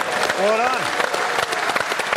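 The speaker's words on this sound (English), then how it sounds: "Give them a round of applause." Applause for the Twickenham honorary stewards at a rugby evening event, a steady wash of clapping from a large crowd throughout, with a voice speaking over it briefly.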